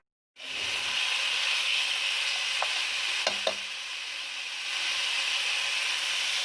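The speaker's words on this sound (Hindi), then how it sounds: "मटन डालकर मैं इसको तकरीबन 5 मिनट तेज़ आंच पर भूनूंगी।" Mutton pieces sizzle steadily in masala over high heat, a loud, continuous frying hiss with a few brief clinks of a stirring spoon partway through.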